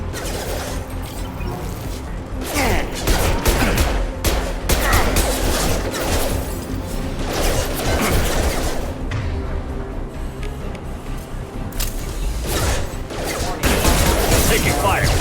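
Gunfire erupts through a Mass Effect 2 firefight against security mechs, with repeated bursts of loud shots, mechanical clatter and impacts, separated by short lulls, while characters speak over the action.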